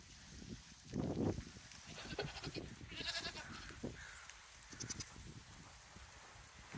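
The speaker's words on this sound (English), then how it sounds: "my goats are panicking" Goats bleating anxiously in the rain near a shed, several loud, wavering calls at irregular intervals from close by, with a steady patter of rain underneath.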